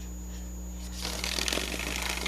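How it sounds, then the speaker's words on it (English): Tight riffle shuffle of a tarot card deck: a burst of crisp, rapid card flutter starting about halfway through, close and fairly quiet over a steady low hum, with no voices. "it is a very tight riffle shuffle"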